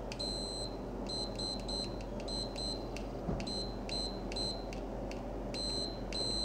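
A Pokit Pro multimeter gives repeated high-pitched electronic beeps in short, irregular bursts, quick chirps grouped in twos and threes over a steady low background hum, clear but not loud.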